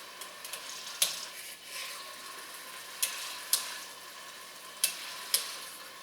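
Burger taco meat frying in a big pan, worked around with a tough pie server: steady sizzle with a few sharp scraping clicks and taps against the pan, no talking.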